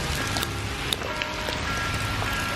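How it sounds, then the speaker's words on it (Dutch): Heavy rain pouring down outdoors, heard from under a tree: a dense, constant hiss and patter close by with scattered sharper drop hits, and no voices. "Echt heel hard regent het."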